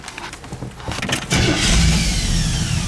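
A 1967 Chevy C10 pickup engine cranks and fires at about 1.3 seconds, then settles into a steady, loud, low idle around 600 RPM for the rest of the clip, with no talking.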